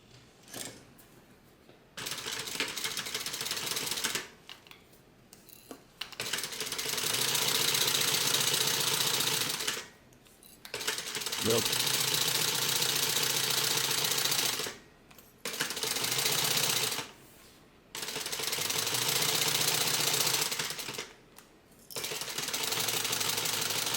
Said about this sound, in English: And we're going to go ahead and stitch.